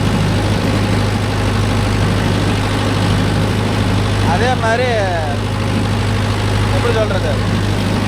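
Mahindra Yuvo Tech Plus 585 4x4 tractor engine running at a steady, even RPM in a rice field with a cultivator, a constant low drone throughout with someone talking over it.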